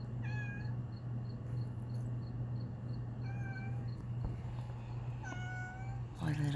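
A green-eyed kitty meows several times in separate short calls, close and clear over a steady low hum, with a brief noisy bump near the end.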